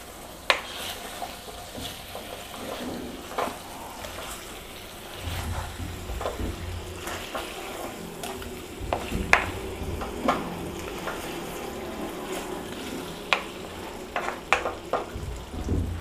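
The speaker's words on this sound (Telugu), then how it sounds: "ఇప్పుడే పుదీనా ఆకులు వేసేసి దాన్ని కూడా కాస్త నూనెలో వేపుకుందామండి." Fresh mint leaves fry in hot oil for chicken soup, a steady close crackling sizzle with frequent sharp pops and occasional stirring scrapes, no voices.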